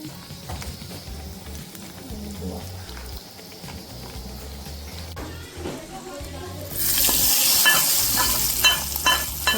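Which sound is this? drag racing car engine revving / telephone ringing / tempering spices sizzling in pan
tempering spices sizzling in pan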